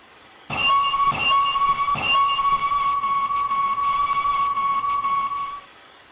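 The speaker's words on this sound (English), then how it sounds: "With an indignant whistle, Gordon clanked off, wheeshing pointedly at Henry" A steam locomotive whistle gives a couple of short toots, then holds one long, steady, piercing note for several seconds before cutting off.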